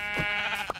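A sheep in the Minecraft video game gives one short, nasal bleat over a steady game background hum.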